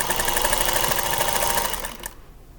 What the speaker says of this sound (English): I'm going to sew onto this little scrap